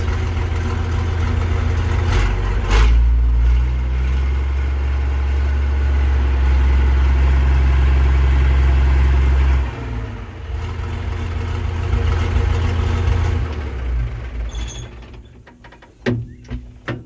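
A Versatile 800 tractor engine idles with a new muffler, a loud, deep, steady rumble that holds evenly, dips and rises once, then fades out toward the end amid a few sharp knocks.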